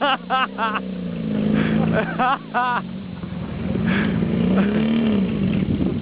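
A motorcycle engine runs at a village festival in Niewierszyn, a close, steady hum with rising and falling revs while people chatter and laugh over it.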